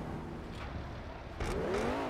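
Car with a titanium exhaust revving in GTA roleplay, a quiet engine hum that climbs into a rising rev partway through, fairly faint overall.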